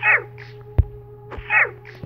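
Small Mine Helper mobs in Minecraft Bedrock give short squeaky hurt cries, two quick chirping bursts separated by a pause, with soft thumps of hits in between, close and clear.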